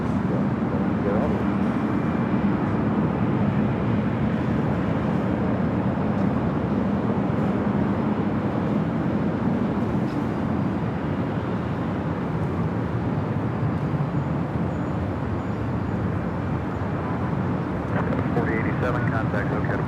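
A heavy jet airliner taking off from runway 24 left at LAX, a steady broad roar that holds level throughout, with a radio voice talking over it.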